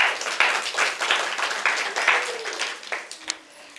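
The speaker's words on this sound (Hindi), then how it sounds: "आप तालियां बजा सकते हैं।" An audience at a Buddhist vihara in Dongargarh, Chhattisgarh, claps in uneven bursts that thin out toward the end, with scattered hand claps fairly close and loud.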